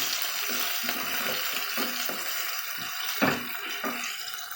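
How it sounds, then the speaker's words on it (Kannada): Onions sizzling in a hot pan while being fried until golden brown, a steady close hiss with repeated scraping strokes of a spoon stirring through them and no talking. "ಈರುಳ್ಳಿನೆಲ್ಲ ಚೆನ್ನಾಗಿ ಗೋಲ್ಡನ್ ಬ್ರೌನ್ ಬರೋವರೆಗೂ ಚೆನ್ನಾಗಿ ಹುರ್ಕೋಬೇಕು"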